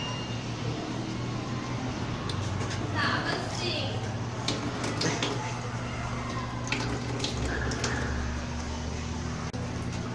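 Water running from a school drinking fountain into a bucket for a water-use test, a steady splashing stream throughout with people talking over it.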